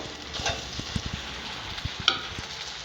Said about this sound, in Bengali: আলুটা দিয়ে দিচ্ছি এবারে।